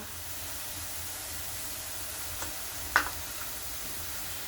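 Borboti beans frying in a pan, a steady soft sizzling hiss throughout with a couple of brief scrapes or clinks of a utensil, no talking.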